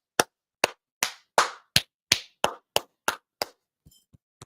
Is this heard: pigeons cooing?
no